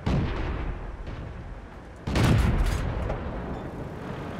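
A tank cannon fires in the World of Tanks video game, a heavy boom with a rumbling tail midway through, after a quieter stretch of battle noise.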